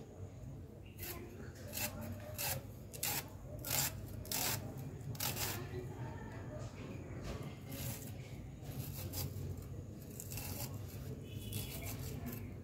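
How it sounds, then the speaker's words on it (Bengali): Fresh onion chopped with a knife, a quick series of crisp close cuts and taps on a board that continues steadily under soft background noise, while someone talks. "পেঁয়াজটাকে আমি এইভাবে কুচিয়ে নিলাম।"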